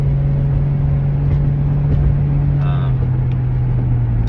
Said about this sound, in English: the car actually makes a really nice sound too